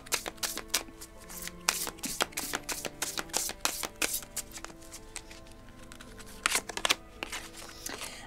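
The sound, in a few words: oracle cards being shuffled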